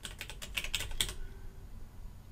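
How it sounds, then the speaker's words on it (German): Windows key pressed and a word typed on a computer keyboard, a short close burst of about a dozen crisp key clicks that stops after a second, leaving quiet room tone. "ich drücke die Windows-Taste und tippe in dem Fall hier Rechner ein."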